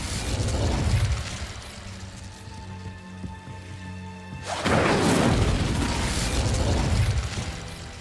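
The Incendio fire spell in Hogwarts Legacy erupts in loud roaring bursts of flame, one at the start and a longer blast midway, between quieter stretches of humming tones.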